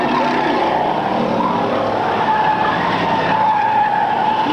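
Stock car race cars roar past on a track at a 1997 race, a loud continuous engine drone with rising and falling pitch as the cars sweep by, no voices.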